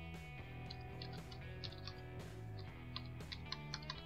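Keys clack on a computer keyboard in a quiet room as text is entered, a soft, quick run of small taps under a steady layer of background music.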